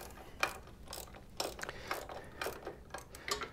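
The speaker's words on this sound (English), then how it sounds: "Now we can get the socket wrench into the ratchet into the socket and wrench that thing back in there." A ratchet socket wrench clicks in short bursts while tightening a bolt on a Harley-Davidson Sportster's charging system, quiet close-up ratcheting strokes repeating at a steady pace.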